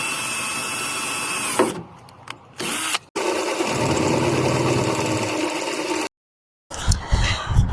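Power drill boring mounting holes for a Honda CR-Z rear wing, a loud whirring motor in bursts with brief pauses and stops, close by, no talking.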